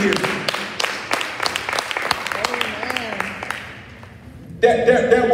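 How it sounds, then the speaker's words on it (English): A church congregation claps hands together during a service, a run of sharp, scattered claps from many people in a reverberant room, fading toward the end as a loud burst of other sound cuts in. "just clap your hands real quick"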